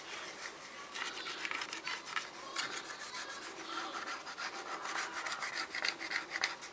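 Close, steady rasping and rubbing as sticky label residue, softened with lemon essential oil, is scraped off a surface in repeated short strokes.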